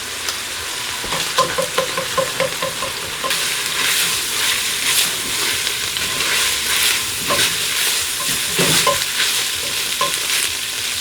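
Tomato paste stirred in a hot pot for beef chuck chili, giving a steady sizzle and frying hiss with scraping spoon strokes throughout, close up and continuous.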